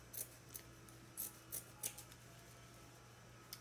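Several crisp scissor snips cutting a patriotic Fourth of July wreath decoration at an angle, close and fairly quiet, spaced irregularly over a low steady hum.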